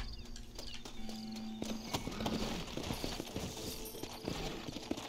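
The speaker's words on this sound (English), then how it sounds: "Horses are over here!" In the video game Red Dead Redemption, horse hooves clip-clop in a quick, uneven rhythm, with jingling tack and a brief whinny, set against a busy game soundscape.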